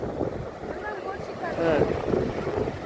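A boat ride on the water near a river mouth at Antarvedi, with a steady rumble of motor and rushing water mixed with wind buffeting the microphone, close and continuous.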